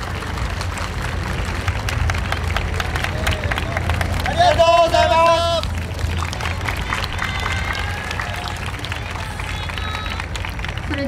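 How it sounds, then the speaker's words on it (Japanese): An outdoor crowd at a festival award ceremony claps loudly and steadily throughout, with babble running underneath and a short spoken thank-you in the middle. "大きな拍手をお送りください"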